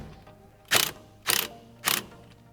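A ratchet tightens the original nut holding a 14-inch six-bolt steering wheel on a 1965-1980 Ford Mustang, giving three loud, evenly spaced bursts of rapid pawl clicking, close by with no talk.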